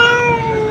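A crossbreed cat meows once, close and fairly loud, a short sustained tonal cry with no voices around it.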